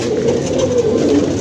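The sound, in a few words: pigeons cooing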